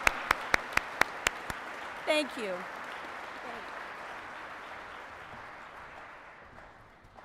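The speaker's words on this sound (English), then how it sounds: "if we could just applaud the whole staff of Kelly J's Lakeside, that'd be great" Dinner guests at an annual chamber awards dinner clap for the restaurant staff in a brief scatter of claps, then a voice speaks over quiet room murmur.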